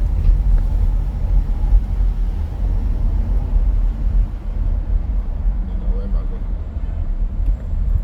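A car driving through the hurricane-damaged streets of Spanish Town, Jamaica, with a steady low road and engine rumble heard from inside the cabin, continuous and fairly loud.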